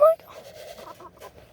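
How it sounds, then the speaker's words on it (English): A short cluck from a chicken comes first, then faint hen and rooster sounds at close range with a person talking quietly over them. "I hear chickens literally right under me."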